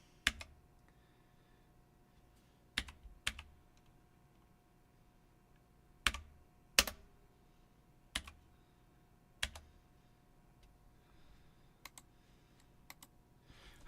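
Sparse keystrokes on a computer keyboard, a dozen or so sharp isolated clicks spread irregularly over quiet background, close and faint, with no talking.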